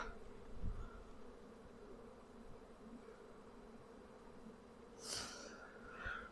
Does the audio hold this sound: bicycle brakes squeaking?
no